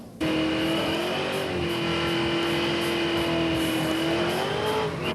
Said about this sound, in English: Welcome to Brampton Raceway, where they've taken a whole runway to race cars, fast cars.